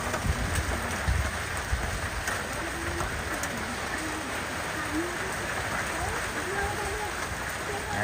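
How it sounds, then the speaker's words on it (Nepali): Heavy rain falls steadily with a soft, constant patter in Rukum East, Nepal, and a few faint chirps come through now and then. "यस्तो धेरै पानी पर्यो"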